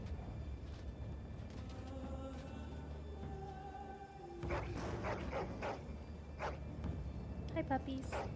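Dogs in the Dragon Age video game yip and bark faintly in short bursts amid quiet background game sound, with a voice talking over them.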